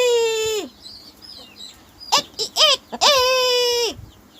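A rooster crows loudly and close by in two long drawn-out calls, with short clucking sounds between them.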